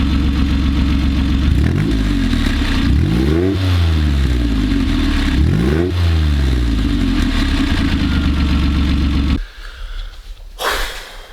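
A Reliant Scimitar engine with a misfire runs close and loud, revved up and down in repeated swells over a rough, uneven idle, then cuts off abruptly near the end, leaving a brief clatter.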